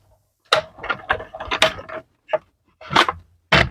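Die-cutting machine rolling layered paper and linen cardstock through its rollers, a series of ratcheting clicks and grinding bursts in irregular rhythm, close and clear with short pauses between.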